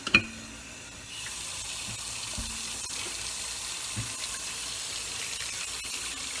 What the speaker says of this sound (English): I'm gonna make some warm soapy water to clean out this candle holder